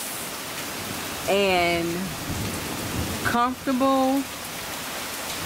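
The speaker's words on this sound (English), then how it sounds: "a whole complete thunderstorm in December" Steady rain hisses through a December night thunderstorm in Florida, a constant close wash of noise while a person speaks over it in two short stretches.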